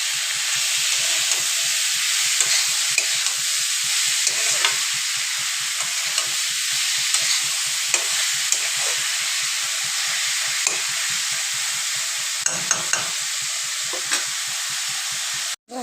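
Shredded cabbage stir-fried in a pan. A constant close sizzle runs throughout, with a quick rhythmic scraping of stirring that repeats many times, and no voices.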